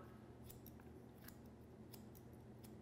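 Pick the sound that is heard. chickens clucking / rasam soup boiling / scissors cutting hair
scissors cutting hair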